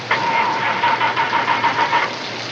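A truck's starter cranks with a rapid, rhythmic whirring churn for about two seconds in the 1980 film Friday the 13th, failing to catch before cutting off, heard up close without talk.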